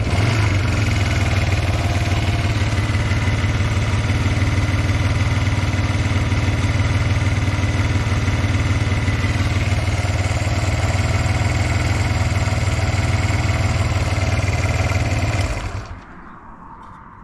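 A Honda CB125 Twin motorcycle engine idles steadily and loudly right after a restart, a constant close-up drone with a fast pulsing beat, then it cuts out abruptly near the end, leaving only faint background.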